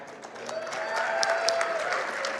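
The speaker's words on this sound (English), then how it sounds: "can you give a round of applause for the music today?" A steady wash of audience applause, many hands clapping continuously at a moderate, even level without pause.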